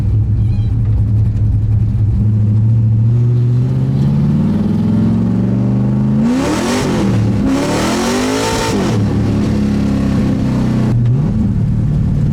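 An LS-swapped Mazda Miata drift car pulls a loud first-gear run, its V8 rising steadily in pitch before sharp rev sweeps and a brief drop, heard up close and continuous throughout.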